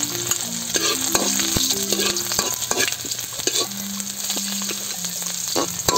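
Onions sauté for a sauce in a very hot pan, giving a loud, continuous sizzle with frequent sharp scraping and clinking as they are stirred.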